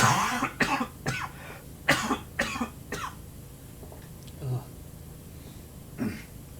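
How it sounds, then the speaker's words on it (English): A burst of harsh, repeated coughs, five or six in quick succession, then a quieter stretch with a couple of softer coughs and breaths. "Bit of a coughing fit."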